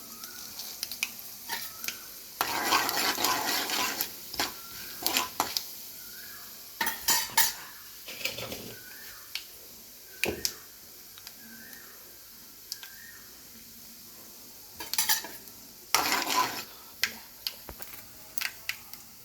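Urad dal and cumin seeds fry in a pan, bursts of crackling sizzle broken up by repeated spoon clinks and scrapes against the metal, close and fairly loud, with no talking.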